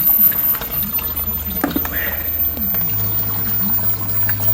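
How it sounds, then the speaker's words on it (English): Water flows back into a koi pond from a filter, a steady rushing trickle with gurgling, close up under a low electric hum from a pump. "As you can hear, the water's already starting to come through."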